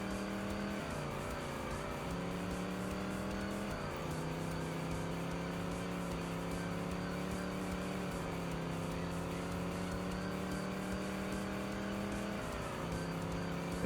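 A racing truck in TNN Motorsports Hardcore TR runs at steady high revs for the whole stretch. Its engine drone dips and climbs with gear shifts and throttle changes, loud and continuous, with no voices.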